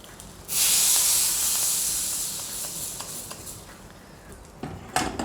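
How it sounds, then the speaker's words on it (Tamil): Hot tempering is poured onto gooseberry rasam with a sudden loud sizzle and hiss that slowly dies down, with light clinks of a pan and spoon near the end. "மேலே இந்த மாதிரி தாளித்து கொட்டிடுவோம்."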